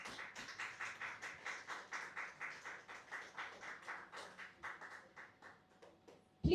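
Sparse, quiet clapping at a Ghanaian conference on future cities for adolescents, a handful of distinct hand claps in a loose, uneven rhythm from a small audience, ending with a sudden loud knock.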